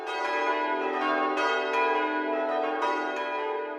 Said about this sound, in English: At 4 p.m, the bells are raised in peal before the real ringing commences.